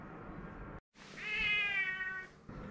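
A domestic cat gives a single drawn-out meow, close and fairly clear, after a brief pause in the low background noise of a workshop where a motorcycle is being restored.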